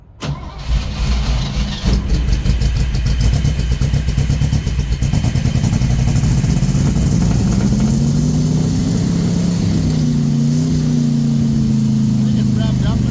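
A 1964 Chevy Suburban engine, just fitted with a repaired carburetor, cranks and catches, then runs with a loud, close rumble and climbs in pitch as it revs before settling slightly; no talk is heard over it.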